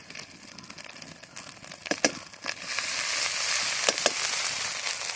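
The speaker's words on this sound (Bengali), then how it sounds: "পেঁয়াজটা ভাজা ভাজা হয়ে গেছে, এর মধ্যে বাকি মশলাগুলো দিয়ে দেবো। দিয়ে দিচ্ছি জিরে বাটা" Onion sizzling in hot oil as cumin paste and other spice pastes go into the pan, a steady loud frying hiss that swells partway through with a few sharp crackles and stirring scrapes.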